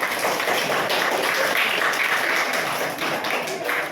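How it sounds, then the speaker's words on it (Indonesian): Children clap together in a dense, lively burst of applause that continues steadily throughout, close by. "Terima kasih, tepuk tangan adik-adik."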